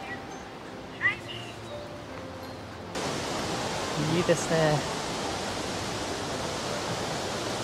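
Jōren Falls in Izu roars as a broad, steady rush of water that swells suddenly and then holds, with someone speaking briefly over it.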